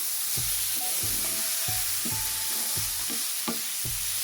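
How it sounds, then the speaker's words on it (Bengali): Long beans bhaji frying in a pan is stirred in repeated scraping strokes, roughly one every half second, over a steady sizzle with no talking. "আবার একটু নেড়ে দিচ্ছি যাতে এটা নিচে বেড়ে না যায়"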